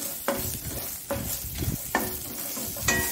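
Carrot chutney ingredients with garlic sautéing in a pan for a Mangalore-style masala chutney, with soft sizzling broken by several scraping stirs of a spatula.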